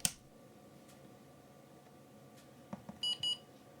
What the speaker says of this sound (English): after a few seconds the piezo buzzer should sound twice to let us know that the PUMAControl software has successfully completed its boot up sequence